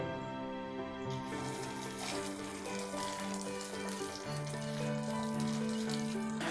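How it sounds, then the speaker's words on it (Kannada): Hot tempering of oil and spices sizzles steadily as it is poured over soaked flattened rice in curd, a continuous close crackle with no talk. "ಈ ಒಂದು ಒಗ್ಗರಣೆನ ಇದರಲ್ಲಿ ಹಾಕೊಂಡ್ಬಿಡ್ತೇನೆ"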